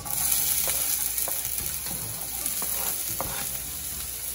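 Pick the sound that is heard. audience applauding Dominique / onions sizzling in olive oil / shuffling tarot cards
onions sizzling in olive oil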